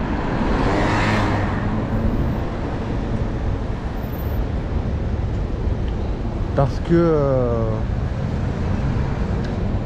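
Street traffic hums steadily behind someone speaking close to the microphone, with a vehicle swelling past early on and a brief tonal whine like a horn or brake squeal near the end.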